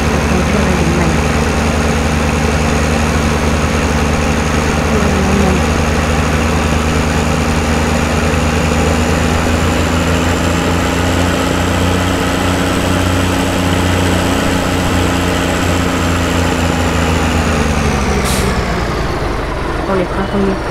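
A car engine in Farming Simulator 2015 runs steadily at a loud, even drone for most of the clip, then cuts off abruptly near the end, with speech over it.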